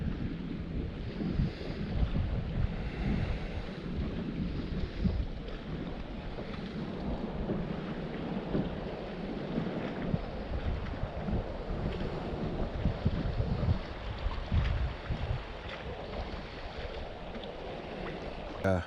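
Strong wind buffets a lakeside dock, a steady low rumbling roar with gusty swells that stays loud and continuous throughout, with no talking.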